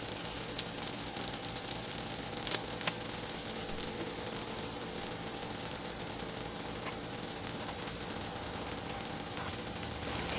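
A keto cheese chalupa shell frying in a greasy pan, a steady, even, fairly quiet sizzle with occasional faint ticks, continuous throughout with no voices.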